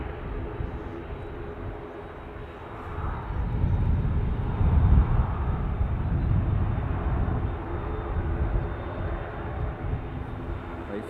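A KLM airliner arriving on the north runway at Dublin Airport, a broad low jet roar that swells from a distance to a loud peak mid-way and then holds, steady and unbroken, with no talk.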